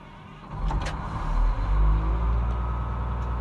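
Cat 980L wheel loader engine cranks and catches, a deep diesel rumble swelling after half a second and settling into a steady, close idle.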